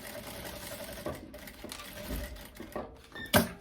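A sewing machine runs in short bursts as it stitches along the edge of a 9 cm wide faux-leather fabric waistband strip, with a few louder clicks and thumps mixed in.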